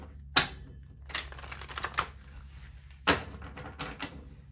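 A deck of tarot cards being shuffled, with two crisp bursts of riffling and rustling paper, close and fairly quiet, plus softer card handling in between.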